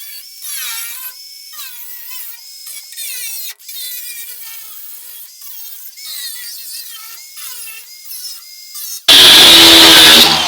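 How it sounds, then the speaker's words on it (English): An angle grinder cuts into the metal body panels of a BMW E30 325i. A high, wavering whine gives way near the end to a loud, harsh burst of cutting, heard alone and close. "Let's get the grinder out, cut some bits out, and then make some new pieces."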